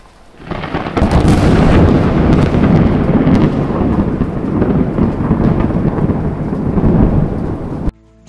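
Loud thunder from a lightning strike in a thunderstorm rumbles continuously for about seven seconds over steady heavy rain, then cuts off abruptly.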